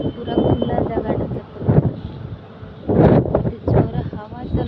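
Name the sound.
strong wind blowing in an open place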